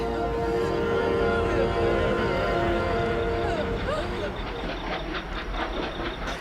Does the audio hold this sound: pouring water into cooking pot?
no